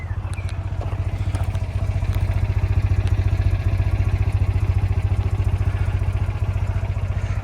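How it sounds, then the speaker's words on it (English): An air-cooled two-cylinder Citroën 2CV engine idles in neutral, a steady close thrum with a fast even pulsing beat and light mechanical clatter, alone with no talk. "The unmistakable thrum of a 2-cylinder engine"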